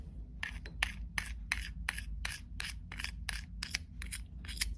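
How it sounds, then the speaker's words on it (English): Rhythmic scraping strokes sound close and distinct while cosmetic gum ingredients such as guar gum are handled, about a dozen evenly spaced rasps over a low background hum. "Sorry if you guys, if that's bothering you, like that scraping noise."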